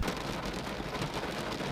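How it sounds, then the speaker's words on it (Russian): A steady, dense hiss of heavy rain pouring down, constant and fairly close, with no voices. "начался ливень на улице"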